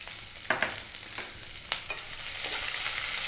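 Sliced onions with salt frying in a pan while being stirred: sharp utensil scrapes and taps land irregularly over a soft sizzle that grows steadier and louder toward the end, with no talking.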